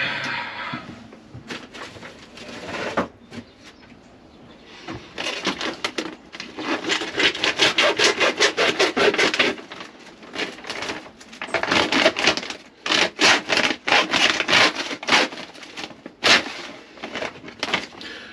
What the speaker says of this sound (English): I always recommend you open your bags of vermiculite and compost with a hacksaw.